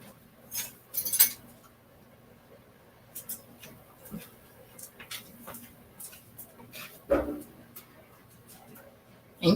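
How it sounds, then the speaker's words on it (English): A spoon stirs spicy Creole sauce simmering in a pot, giving sparse, faint scrapes and clinks against the metal at an irregular pace, with a person speaking nearby. "Nate, can you stir it for me?"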